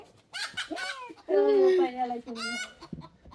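A hen clucks and squawks in several short, nasal bursts close by, with one longer drawn-out call in the middle.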